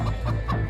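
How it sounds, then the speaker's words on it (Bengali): Cartoon chickens and roosters cluck in a quick burst as they scatter loose from a broken basket, several close, loud squawky calls packed into under a second. "সব মোরগ মুরগি চারদিকে দৌড়াতে শুরু করে।"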